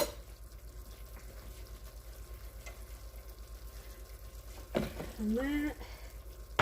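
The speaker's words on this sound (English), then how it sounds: "Alright, so I've got that stir frying." Spanish red rice stir frying in a pan gives a faint, steady sizzle across the clip, followed near the end by a brief clatter and a short spoken phrase.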